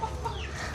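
Chickens cluck softly at a rural Thai home in the evening, a short low murmur of fowl calls against a steady background, faint and fairly distant.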